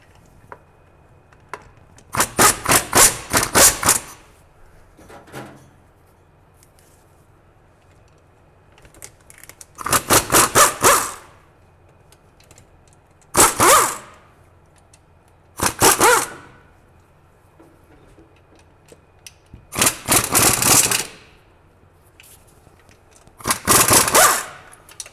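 A pneumatic air impact wrench tightens bolts on a 1966 Ford Mustang, firing six loud, rapid hammering bursts of one to two seconds each, separated by quiet pauses in a garage, with no talking.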